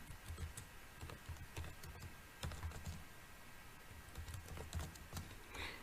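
Fingers type on a computer keyboard while filling in a web form, a steady patter of close, fairly quiet keystrokes that comes in short bursts with no voice.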